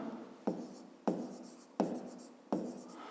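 A pen writes by hand on paper during a fifth-grade maths exercise, with four short scratchy strokes, each starting with a soft tap, at a steady pace and close by.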